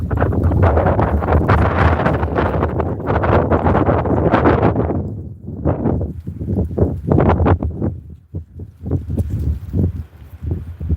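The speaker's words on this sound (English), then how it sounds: "It's getting super windy out." Strong wind buffets the microphone in heavy, roaring gusts that ease off into shorter bursts and rustling.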